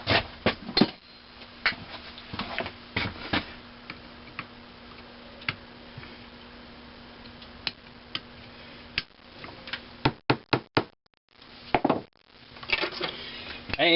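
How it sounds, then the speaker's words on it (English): Sharp metallic taps of a hammer on Wico EK magneto parts ring out in irregular bursts, some rapid clusters and pauses between, close up against a quiet background hum. "Let's get the hammer."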